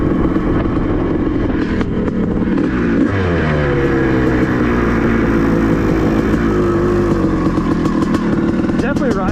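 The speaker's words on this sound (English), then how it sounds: "Before you couldn't even rev it out. Now it revs out" A 1984 Honda CR500 two-stroke dirt bike engine revving hard close by, a loud continuous buzzing snarl with the pitch climbing and falling through repeated throttle blips, heard alone with no talk.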